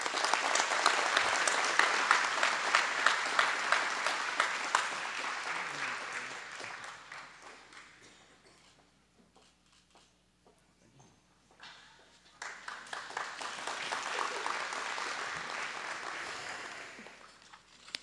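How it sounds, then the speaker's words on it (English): An audience at a 2018 hall of fame induction applauds an inductee. A full round of clapping fades out to near quiet, then a second burst of applause swells back up and carries on. "Please give Daryoosh a round of applause."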